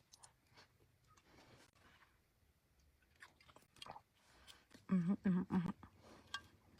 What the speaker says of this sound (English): I'm just gonna use a fork and then just like slurp it up.